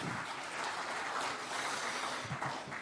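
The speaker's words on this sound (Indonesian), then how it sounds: "Kita berikan tepuk tangan yang meriah." Lively applause from an audience at a political press event at a party headquarters, steady broadband clapping sustained throughout without talk.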